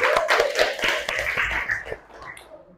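Classroom applause of students clapping together, a quick dense patter of hand claps that starts strong and thins out toward the end.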